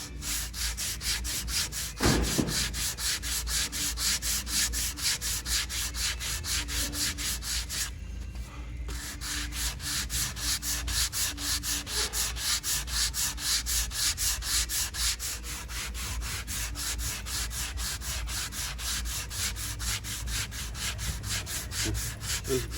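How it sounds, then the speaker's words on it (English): Rapid, rhythmic back-and-forth scraping of a stiff plastic block sanding the wooden deck of a Beetle Cat half hull model, steady and close, with a short pause partway through. "I'm gonna do the first sanding on the deck. This is a very stiff little plastic block"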